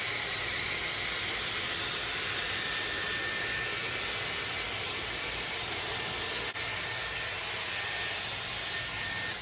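Dyson Airwrap hair styler blowing hot air while curling hair, a constant loud close hiss and whoosh with one brief dip partway through, no talking.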